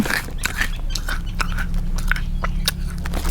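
Crisp, hard crunching of a dense, apple-scented freeze-dried snack being bitten and chewed close up, with repeated sharp bites and steady crunching throughout and no talking.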